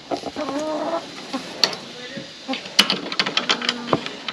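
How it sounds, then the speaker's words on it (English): Chickens, including large black ones, cluck and squawk in short, scattered bursts close by, with some brief harsher calls mixed in over a busy farmyard background. "Look at these chickens."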